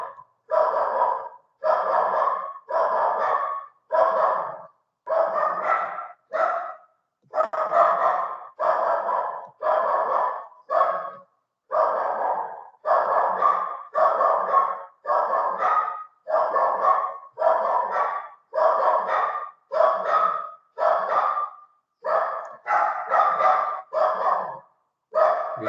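A neighbour's loose dog barks over and over, a long run of loud, evenly spaced bursts with short pauses between them.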